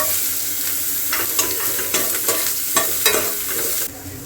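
Ginger and garlic frying with Byadgi chillies in hot oil, a close, steady sizzle broken by several soft scrapes and knocks of a stirring spoon, with no talking.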